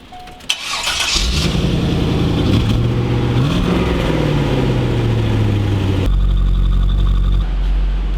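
A large V8 car engine cranks and catches after a short click, then idles loudly with a rise and fall in pitch as it revs, staying close and steady without any speech.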